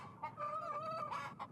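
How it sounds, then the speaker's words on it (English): A magical rooster in the PC video game Yes Your Grace, clucking and giving a short crowing call, faint and steady within the game soundscape. "this is our magical rooster"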